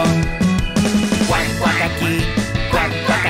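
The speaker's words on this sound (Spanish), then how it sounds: "Y en esa granja había un pato." A duck quacks repeatedly in a Spanish-language Old MacDonald children's song, the cartoonish quacks landing in rhythm over bouncy music with singing.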